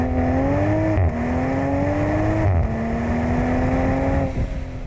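A 2020 Toyota Supra engine revs steadily, its tone rising in pitch through several gear-like steps, loud and close.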